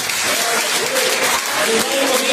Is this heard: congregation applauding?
yes